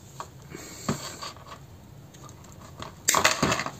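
Wire snipped with cutters during basketry work, a few close, short clicks and scraping crunches, one louder snap near the end, with no talk.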